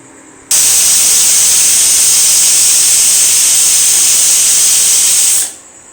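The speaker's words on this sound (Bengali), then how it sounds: "সিটি পড়ে যাক" A pressure cooker vents steam through its whistle while cooking meat in a home kitchen: a sudden, loud, continuous hiss that holds steady for about five seconds, then quickly dies away.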